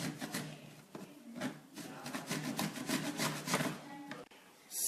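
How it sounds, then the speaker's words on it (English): A block of Parmigiano cheese is grated by hand in a kitchen, making a quiet, rhythmic scraping rasp of quick repeated strokes. "Now we start to grate Parmigiano."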